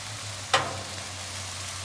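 Potatoes fry on a 28 inch Blackstone griddle with a steady close sizzle, broken once by a short sharp scrape of a spatula turning them.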